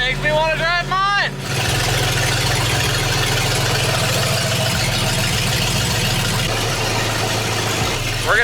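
A twin-turbo LS-swapped Fox-body car idles close by with a loud, steady, rumbling drone and a slightly lumpy pulse, after a short burst of high whistling squeals at the start.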